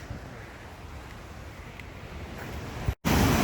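A waterfall on the Upper Red River in Canada roars steadily, broadband and continuous, briefly cutting out near the end before returning louder.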